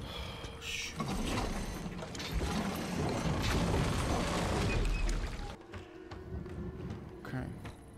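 A crank mechanism is turned in the video game Resident Evil 7, giving a steady ratcheting, gear-grinding clatter that runs for several seconds before stopping, with game sounds around it.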